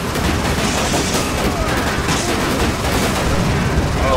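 Dense, loud gunfire in Resident Evil 5 runs unbroken through the whole short stretch, a thick roar of rapid shots and booms during a vehicle shooting sequence.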